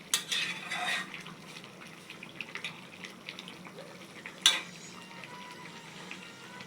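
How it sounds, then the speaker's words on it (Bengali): Two pots cooking side by side on a stove, water lily and okra with dried fish, giving a faint steady sizzle and simmer with occasional utensil clinks and one sharp metallic knock near the end. "এই পাশে দুই চুলায় দিয়ে দিয়েছি দুইটা রান্না"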